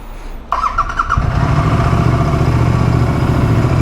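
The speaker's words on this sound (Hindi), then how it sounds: "अब उसको देते हैं एक कोल्ड स्टार्ट एंड निकलते हैं।" A Royal Enfield GT 650 motorcycle cold-starts with a short cranking squeal, then its parallel-twin engine catches and settles into a loud, steady, throbbing idle close by, with no talking.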